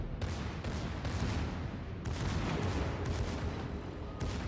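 Secondary battery guns aboard the battleship Pommern in World of Warships fire in repeated booming salvos about once a second, fairly distant and faint, with no talk.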